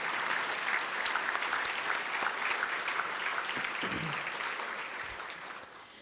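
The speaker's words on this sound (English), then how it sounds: "let's give her a warm round of applause" Sustained audience applause at a 2015 county government awards event, a dense steady wash of many hands clapping that fades slightly toward the end, with no talking.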